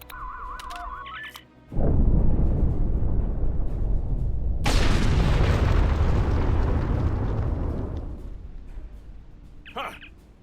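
A loud video game explosion from Temporal Agent Recruit erupts after a short electronic beep sequence. A deep roaring blast rolls out and then a sharper second burst follows, both decaying slowly over several seconds before more faint beeps.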